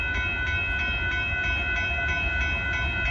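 A northbound Union Pacific tanker train with a KCSM rear DPU rolls past at Dittmar Road in Austin, a loud continuous rumble with rail squeal and rhythmic wheel clatter.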